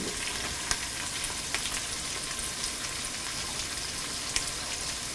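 Garlic and ginger frying in oil for a venison pickle, a dense, even crackling sizzle heard close, with a few faint clicks and no voices.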